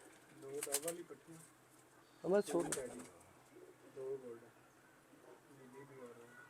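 Teddy and Dub breed pigeons coo softly in a loft, with low burbling calls in two or three short bursts, a voice speaking between them.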